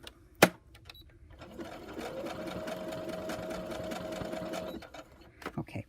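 Sewing machine stitching fabric, a brief clack at the start, then a steady mechanical whir lasting about three seconds before stopping, close and fairly quiet, followed by small handling taps.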